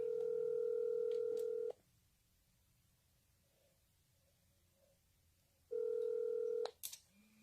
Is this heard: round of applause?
no